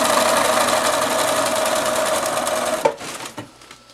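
A sewing machine stitching straight across fabric doll hair runs in a fast, steady mechanical whir, then stops abruptly with a few clicks and knocks as the needle is repositioned.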